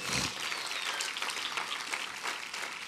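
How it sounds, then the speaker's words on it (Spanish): A church congregation applauds together during a Spanish-language worship service, broad steady clapping filling the room throughout, fairly even in loudness with no voices standing out. "dale un aplauso al Señor"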